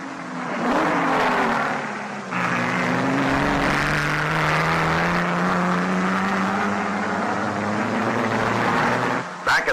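Vintage race cars, including a Jaguar, roar past in a sustained loud engine drone, one car's pitch rising and falling as others follow close behind in an endurance race.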